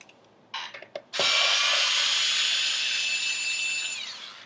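A small USB-powered electric screwdriver removing screws from a Fender Stratocaster, a few clicks and a short burst, then a steady high motor whine for about three seconds that winds down at the end, close and alone.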